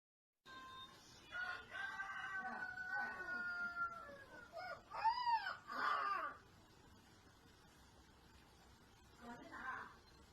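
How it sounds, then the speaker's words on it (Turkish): A rooster crows loudly in a long rising-falling call, followed by yelping, howl-like cries and a shorter call near the end over a quiet background. "videoda bir horoz var ve horoz ötüyor."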